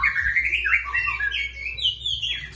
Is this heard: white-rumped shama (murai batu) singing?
yes